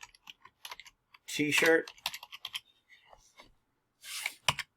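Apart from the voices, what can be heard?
typing on computer keyboard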